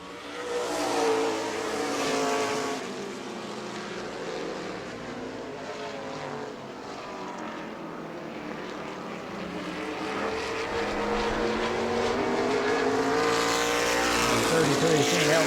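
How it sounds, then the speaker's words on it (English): Race cars racing on a short oval track at a summer speedweek event, engines droning and shifting in pitch as they pass, with the roar building louder toward the end under a commentator's voice. "Alan Bruns up to the 3rd position, making the pass on the 33"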